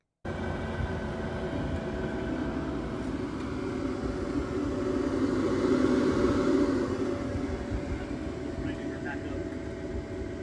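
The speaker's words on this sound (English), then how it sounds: "So anytime you have keyed power, the clutch fan is running." Electric clutch cooling fans on a Polaris RZR Pro R side-by-side whir steadily on keyed power while the machine is parked, a continuous droning hum that swells slightly midway, with a voice speaking over it.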